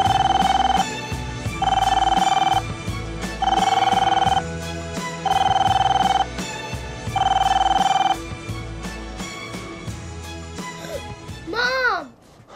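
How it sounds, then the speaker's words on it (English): A telephone rings in regular repeated bursts, five times, over a busy background of chatter and murmuring voices in a crowded call center. "This is our call center."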